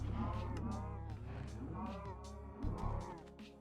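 Cows in Minecraft moo in several low, drawn-out calls close by, one following another over a few seconds, with no talk.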